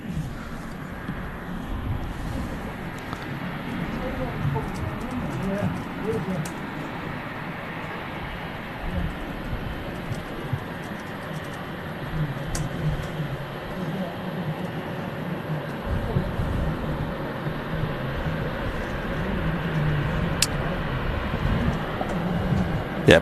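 A Qatar Airways airliner in World Cup livery taxis past the control tower at Manchester Airport, a steady low jet-engine rumble that holds at moderate distance throughout, with a person talking over it.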